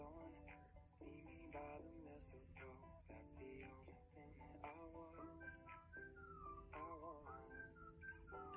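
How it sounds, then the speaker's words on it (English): Melodic whistling carries a tune with wavering pitched notes over soft background sound, fairly quiet and continuous. "Wait, two people whistling."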